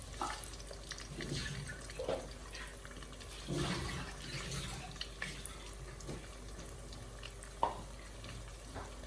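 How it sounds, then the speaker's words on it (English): Hands being rinsed under a running kitchen tap, a faint irregular splashing and trickle with a few soft drips and a small clink near the end. "Let me quickly rinse my hands."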